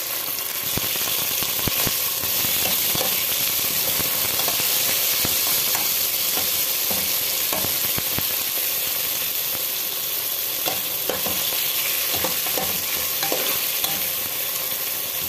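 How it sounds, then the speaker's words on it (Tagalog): Tomatoes sauté in a hot pan for chicken adobo, giving a steady loud sizzle throughout with scattered scraping and stirring clicks from a utensil against the pan. "Lagay ko na yung kamatis."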